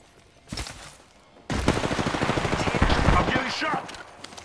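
Video game gunfire aimed at the player, with dense rapid shots bursting in after a brief earlier volley and continuing loudly for several seconds.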